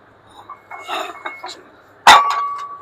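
Ceramic dinner plates from an Akis Ceramics dinner set are handled with soft knocks and light scrapes, then one sharp, bright clink rings out with a short lingering tone, close and clear.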